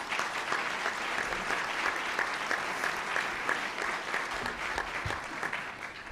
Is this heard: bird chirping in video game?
no